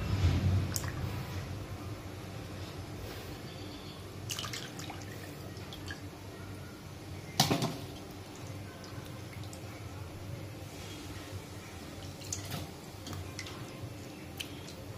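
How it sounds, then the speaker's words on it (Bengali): Rohu fish being washed in water at home: soft drips and splashes with a few sharper knocks over a quiet background, sparse and irregular, close by. "এখন রুই মাছগুলো ভালো করে ধুয়ে নিই।"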